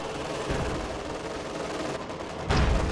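A Stuka dive bomber firing in a Company of Heroes 2 battle, heard as a dense, continuous rumble of gunfire and explosions with a heavier burst near the end, no voices.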